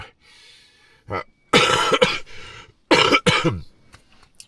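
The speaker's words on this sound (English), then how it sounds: "the cough. I'm still recovering from that cold" Several harsh coughs in short bursts, close to the microphone, with quiet gaps and faint breathing between them.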